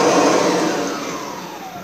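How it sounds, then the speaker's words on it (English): A Kirby Sentria vacuum cleaner motor runs alone at close range, a loud, steady whirring whine that slowly winds down and fades across the short stretch. "Just so you guys can hear the difference in the motor."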